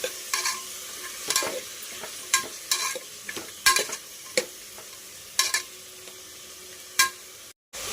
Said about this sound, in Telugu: కలుపుకొని కలుపుకుంటున్నాం